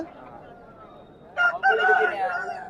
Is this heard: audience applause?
no